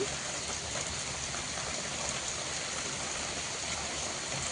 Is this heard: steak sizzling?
no